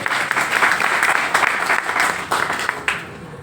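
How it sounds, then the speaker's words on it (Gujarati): An audience breaks into sustained applause, a dense wash of many hands clapping at once that stays fairly loud and even throughout, with small rises and dips. "જોરદાર તાળીઓથી સ્વાગત કરીએ"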